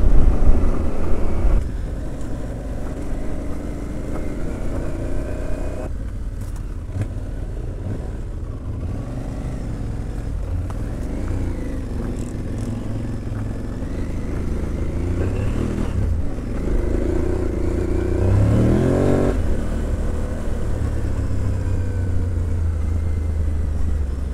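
A motorcycle pulling away from a rest stop at a Honda dealership in Guéret, its engine droning and shifting pitch as it accelerates and cruises, with steady wind rush against the microphone throughout.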